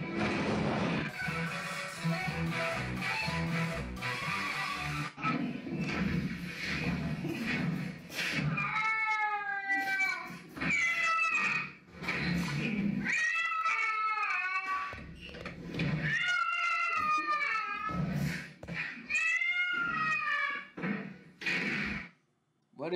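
A cat meows and yowls in drawn-out, rising and falling caterwauls, repeated in loud bursts over the second half, with background talk, clatter and bumps earlier on.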